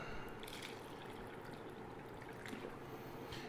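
Kangen water trickling and pouring through a tea bag, a soft continuous liquid splashing and dribbling close by, faint overall with small bursts of splatter.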